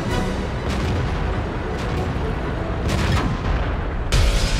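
A BL-10 tank gun fires in the World of Tanks video game as heavy booms ring over a dense, loud background of battle noise and rumble, with no clear speech.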